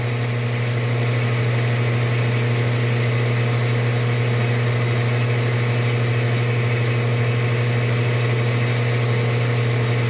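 A lathe runs steadily while a face is cleaned off a John Deere dump bed motor part by freehand machining. A loud, constant mechanical drone with a low hum holds throughout, with no talking.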